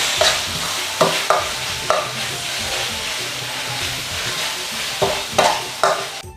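Fish kidney sauce hisses in a hot pan while being stir-fried, steady sizzling broken by several sharp scraping strokes of a spatula at irregular intervals.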